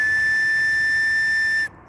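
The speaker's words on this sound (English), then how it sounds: "you get a whistle like that" A homemade whistle carved from elder wood blown in one loud, steady, pure high tone with a breathy hiss beneath, held for over a second before stopping abruptly.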